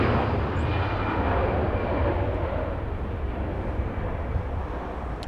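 A Delta Airbus A321 departs Los Angeles International Airport bound for Austin, its jet engines a loud, sustained broadband roar that slowly eases as it climbs away.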